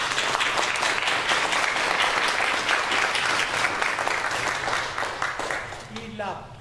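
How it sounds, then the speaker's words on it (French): Applause fills a church, steady dense clapping from a gathered congregation that holds for several seconds before thinning out, with a voice briefly heard at the end. "Applaudissements."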